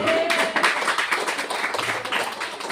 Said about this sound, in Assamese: মই পাহাৰীয়া কাৰণে তালি বজাই দিওঁ দে।